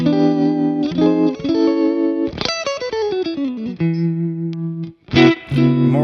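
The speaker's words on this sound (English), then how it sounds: "Here's a Bassman tremolo." Clean Fender Bassman–style electric guitar tone with a tremolo effect, played through a Sonicake Pocket Master: sustained chords and a descending run of notes with a subtle pulsing wobble, close and steady, no talking.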